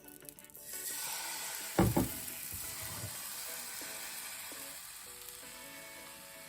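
Crepe batter ladled into a buttered pot on the stove, a brief clatter and splash giving way to a steady, quiet sizzle that carries on alone.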